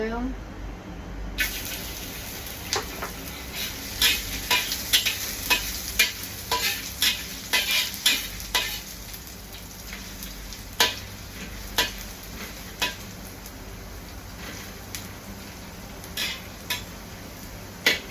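Broccoli and squid with ginger sizzle steadily in a hot oiled wok while a utensil scrapes and clacks against the metal in irregular strokes.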